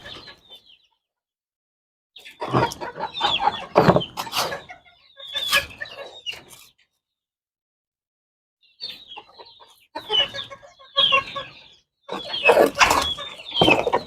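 Chicks and chickens cluck and chirp close by in bursts, with busy overlapping calls separated by short silent gaps, fairly loud and with no talking over them.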